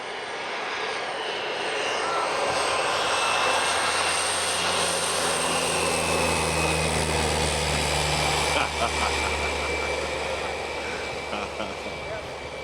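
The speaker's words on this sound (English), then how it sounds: "there's this other plane coming in" A small propeller plane drones loudly as it passes close while coming in to land in Alaska, engine pitch sliding down, with a buzzing roar that swells then slowly fades.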